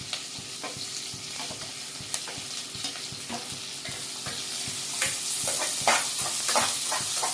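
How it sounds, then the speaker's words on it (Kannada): Chopped onion, garlic and ginger frying in hot oil for a bottle gourd, field bean and prawn sambar, a steady close sizzle punctuated by regular stirring scrapes that grow busier toward the end. "ನೋಡಿ, ಇವಾಗ ಈರುಳ್ಳಿ, ಶುಂಠಿ ಹಾಗೂ ಬೆಳ್ಳುಳ್ಳಿನ ಸ್ವಲ್ಪ ಫ್ರೈ ಮಾಡ್ಕೊಳ್ಳೋಣ."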